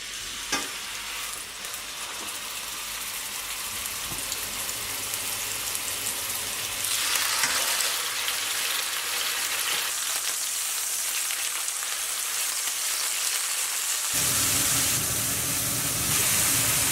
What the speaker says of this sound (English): Wait for that oil to heat up, and then I'm going to place the chicken breast.